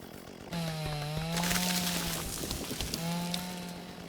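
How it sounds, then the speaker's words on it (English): A chainsaw cuts a tree in the video game Dinkum, its engine buzzing loud and steady as it revs up, dips briefly, then picks up again. "I want to go and test my chainsaw."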